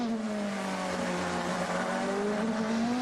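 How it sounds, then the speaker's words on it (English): Toyota prototype race car at the 2013 Le Mans 24 Hours, its engine note droning steadily at high revs for a few seconds, loud and continuous with a slight rising pitch as the driver pushes. "just listen to the sound, the engine note, because the Toyota we can hear"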